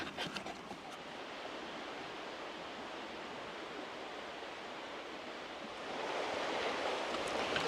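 A river flows steadily as a broad, constant rushing wash heard alone, with the water noise swelling slightly louder toward the end.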